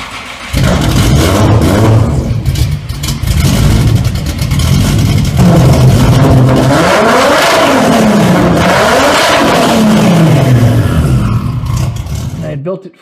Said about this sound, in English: I had built this 5-inch aluminum exhaust, which I'll put a sound clip in here